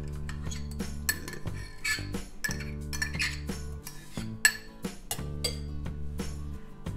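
Tomato puree being put into a bowl in a kitchen, heard as repeated clinks and scrapes of a utensil against the bowl, in short irregular bursts over a low steady hum, close and fairly clear.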